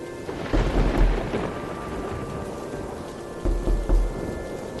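Heavy rain pours steadily while two deep rolls of thunder break out, one early and one near the end, over a constant hiss of falling water.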